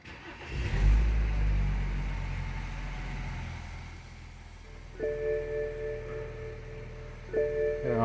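A BMW X3 with a no-start and no-power fault fires up after repair: a loud starter crank catches into a steady mid-pitched idle, while two short electronic warning chimes sound later in the run.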